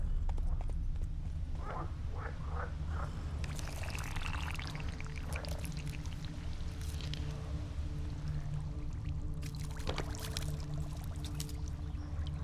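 Roach, a horse in The Witcher 3, moving along with soft rhythmic hoof clops in one short run, then steady pouring water-like rushing and splashing over a constant low ambient rumble.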